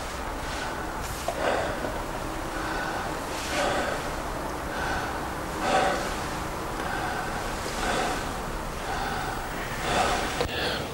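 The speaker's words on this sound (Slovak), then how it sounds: "Mit offenem Mund bitte ein- und ausatmen." A patient breathes in and out through an open mouth for a lung examination by a specialist, slow audible breaths repeating about every two seconds, close and steady over a faint background hiss, with no talking.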